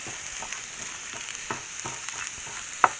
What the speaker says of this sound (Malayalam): ഈ സവാളയിലേക്ക് നമുക്ക് കുറച്ച് ഗ്രാമ്പൂ, ഏലക്ക, കറുകപ്പട്ട ഇത്ര ഐറ്റം നമുക്കൊന്ന് ചേർത്ത് കൊടുക്കാം കേട്ടോ.